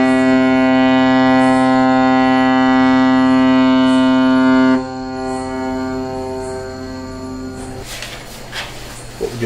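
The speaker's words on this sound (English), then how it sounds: "And again, this foghorn." A steady, loud foghorn blast sounding in fog holds a deep, rich harmonic tone for about five seconds, then cuts off and leaves a fainter droning tail with some rustle.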